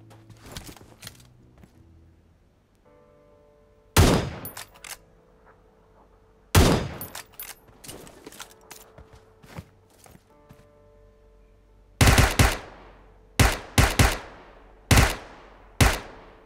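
UMP submachine gun fire from the PUBG Mobile game comes in several short, sharp bursts separated by quieter stretches, with faint footsteps and game ambience between them.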